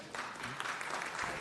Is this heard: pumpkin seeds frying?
no